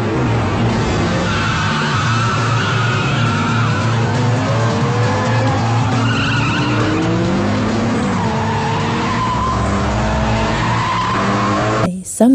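Cars in a street race roar loudly and continuously, engines revving with rising and falling pitch and tires squealing through skids, a dense, close wall of motor noise throughout.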